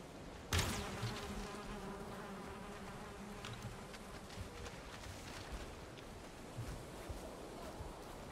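Bees buzz in a barn in a video game, a steady swarming drone that starts with a sharp burst and continues at moderate level throughout, with no talk.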